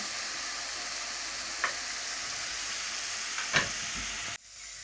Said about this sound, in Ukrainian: Тим часом, поки цибулька тушкується там